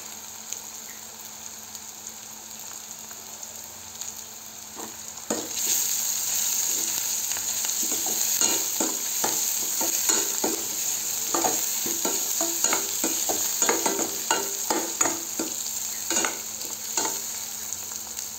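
Curry leaves frying in hot oil for a fish curry, a steady close sizzle that jumps louder partway through as the leaves hit the pan, with sharp crackles and spatters over the continuous hiss.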